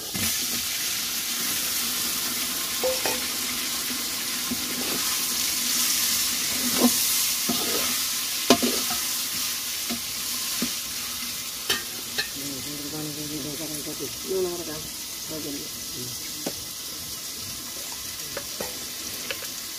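Ginger and garlic fry lightly in a pan with a soft, steady sizzle, broken by occasional clinks and scrapes of stirring; no voices.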